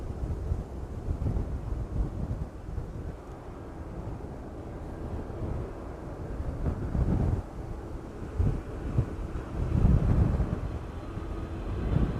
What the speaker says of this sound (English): that wind is still very much blowing straight towards us this evening